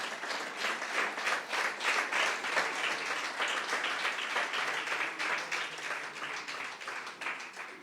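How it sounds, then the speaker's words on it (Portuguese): A standing church congregation claps together in praise, a dense, steady patter of many hands at moderate distance that continues throughout without letup. "Damos um aplauso para Jesus, fique de pé e vamos orar."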